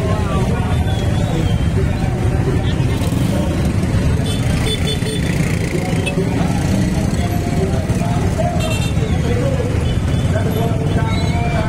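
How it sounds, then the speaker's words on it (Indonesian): A busy street fills with celebration after Indonesia's 1-0 football win over China, a constant loud rumble of passing motorbikes and cars mixed with crowd noise and people talking nearby. "Memang masih ramai, masih gemuruh, masih merayakan, masih euforia kemenangan Indonesia atas Cina 1-0"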